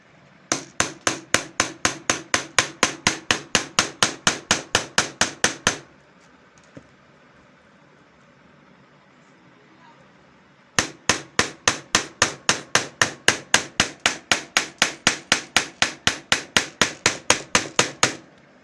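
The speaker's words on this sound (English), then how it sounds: "Here is my punch board, the hammer, and my punch to bore the hole for eyelets." A hammer strikes a metal punch on a punch board to bore eyelet holes for a bag. Rapid, evenly spaced sharp taps run for about six seconds, pause in near silence, then resume in another long steady run.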